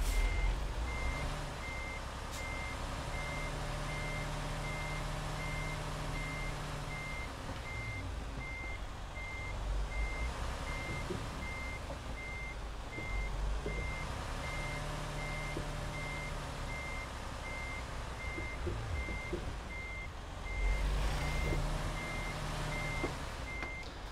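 Steady, evenly spaced reversing beeps from a truck in American Truck Simulator repeat throughout over a constant low engine rumble, with no talking.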